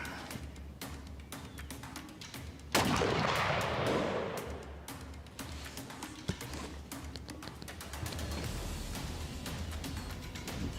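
A single sharp, loud rifle shot rings out at an outdoor target range, followed by a decaying rumble. Quieter ambient noise fills the rest.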